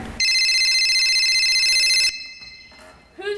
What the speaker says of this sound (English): Whose cell phone is ringing?